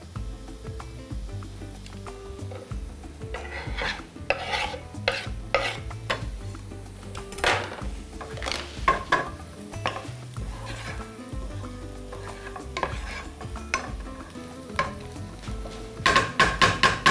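Ingredients with minced garlic sizzle and fry in a pan while a utensil stirs and scrapes repeatedly, with clinks of cookware throughout, close and steady, during preparation of a beef and potato oven dish.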